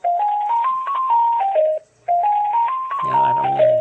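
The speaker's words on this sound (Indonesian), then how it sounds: "Tuh ini alarm kan" A digital alarm clock that doubles as a Bluetooth speaker plays a loud, close electronic alarm melody of stepped beeping tones. The phrase plays twice with a brief gap between, and a voice cuts in near the end.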